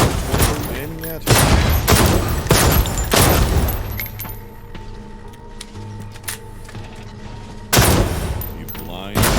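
Gunfire from shooting at moving targets in the VR game Defector, loud bursts of rapid shots in a cluster early on, a quieter stretch with a faint hum, then another burst near the end.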